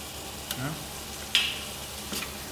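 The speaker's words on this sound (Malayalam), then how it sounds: "മസാല തിളച്ച് വന്ന് ആയിട്ടുണ്ട്" A low, steady sizzle of beef biryani masala simmering in a pot, with a few soft pops and clicks and no voices.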